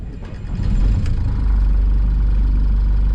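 A sailboat's inboard engine is push-button started and cranks briefly, then catches and settles into a loud, steady, low idle at close range.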